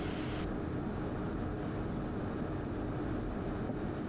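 A Cirrus Vision Jet climbs just after takeoff with its landing gear retracting, heard from inside as a steady, loud, even cabin roar of engine and airflow, with a high tone that cuts off early on.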